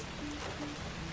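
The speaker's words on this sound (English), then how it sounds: "The rain continued its gentle drumming on the windows." Gentle rain drums steadily on windows, a soft continuous patter and hiss that holds the same level throughout with no voices.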